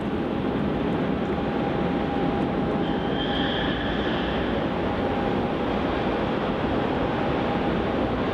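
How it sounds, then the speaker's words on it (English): A Qantas airliner taxis toward runway 34 at Melbourne Airport, heard as a steady distant jet whine over a broad, constant rumble and hiss of the airfield, with a faint rising tone midway. "As it taxis down to runway 34."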